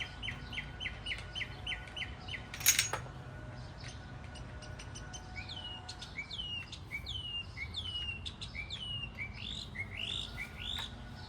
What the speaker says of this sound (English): That bird driving you nuts,